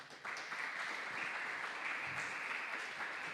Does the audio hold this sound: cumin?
no